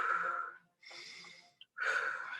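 Slow, deep breaths taken as a facial warm-up stretch for theatre: three long, close, airy exhalations separated by short pauses.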